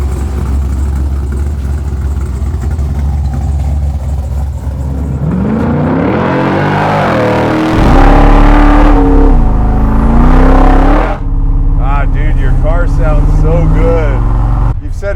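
A 1971 Chevelle SS with a 572 big-block V8 rumbles at idle, then revs hard and accelerates with rising, falling engine roar, loud and close, settling back before revving again.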